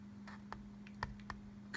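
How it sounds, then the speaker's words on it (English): Small, sharp clicks and snips, about half a dozen spaced irregularly, close and fairly quiet over a steady low hum, as plastic tabs are cut off during a miniatures unboxing. "I'm just going to cut those tabs off."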